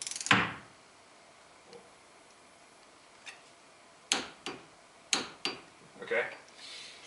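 A torque wrench tightening a steering wheel nut to 25 foot-pounds, giving a handful of sharp, close clicks and knocks after quieter handling, with a voice heard early on.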